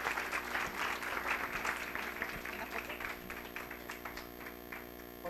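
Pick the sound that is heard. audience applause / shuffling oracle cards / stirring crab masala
audience applause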